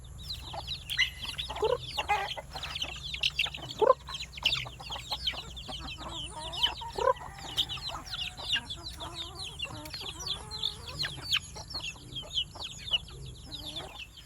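A hen clucks among her newly hatched baby chicks, low repeated clucks mixed with a busy stream of high peeping from the chicks, close and continuous over a faint background hum.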